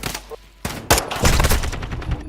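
Rapid gunfire in a Call of Duty match crackles in sharp, loud bursts, with a brief lull before a dense run of overlapping shots keeps going to the end.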